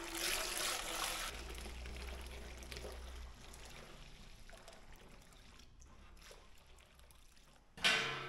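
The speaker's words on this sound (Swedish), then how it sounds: "det är lite svårt att hälla över en nästan 20 liter stor hink" Water poured from a nearly 20-litre bucket into a large ultrasonic cleaner, a steady rushing pour that thins to a trickle, then a sudden louder splash or clatter near the end.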